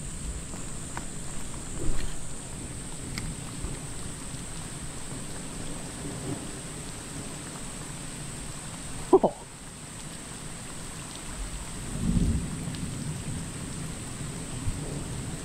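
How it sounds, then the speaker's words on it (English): Steady rain falls through a thunderstorm on a freshwater bass fishing outing, with a sharp crack near the middle and low rumbles of thunder rolling in around it, and no voices. "Thunderstorm, thunderstorm, catching bass in a thunderstorm."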